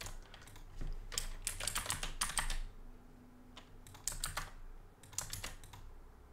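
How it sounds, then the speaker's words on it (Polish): Typing an email address on a computer keyboard, with bursts of quick, close key clicks separated by short pauses. "Wpiszę mój adres e-mail i mogę wygenerować sobie nowe hasło."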